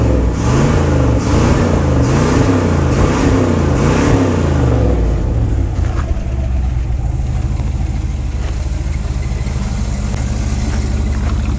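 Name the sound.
abandoned Dodge Power Wagon service truck engine revving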